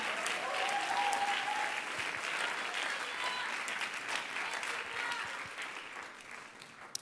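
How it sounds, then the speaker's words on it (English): Sustained applause from a standing audience at a talk, a steady wash of clapping with faint crowd murmur that slowly eases off. "You can stand and clap for that."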